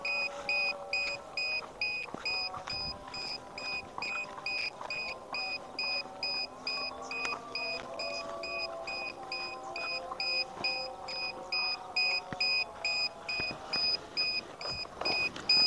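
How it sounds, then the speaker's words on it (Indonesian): Buzzer on an RC airplane beeping in steady repeated pulses, a loud electronic tone running throughout, over faint background noise. "Tak cabut dulu buzzernya karena suaranya lumayan kenceng ini."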